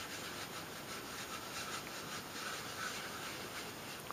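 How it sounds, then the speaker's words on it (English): Cloth rubbing finish onto wood in circular or back-and-forth strokes on a shadowbox, a soft steady scrubbing texture heard close and quiet throughout, with no talking. "get a lot of it off of your cloth, and then rub, and you can go into circular motions if you want to"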